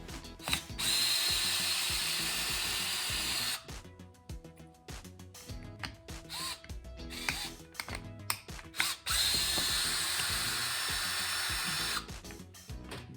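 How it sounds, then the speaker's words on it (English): A power driver with a 2.5 mm hex bit whirs in long bursts with brief pauses while backing out the front bumper screws on a Traxxas Slash 2WD RC truck. "we're going to take out these two screws in the front of the bumper"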